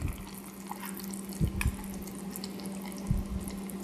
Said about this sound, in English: So just get any strainer and just go ahead and pour it.